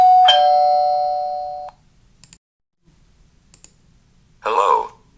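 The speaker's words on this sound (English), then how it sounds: "Let's ring the doorbell." A single loud doorbell chime rings and fades, then a few faint clicks, and a voice briefly speaks at the end.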